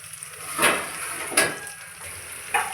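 Onions and green chillies frying in oil in a pan for millet palak khichdi, a soft steady sizzle with a few brief spatula stirs or clinks, close and quiet with no talking.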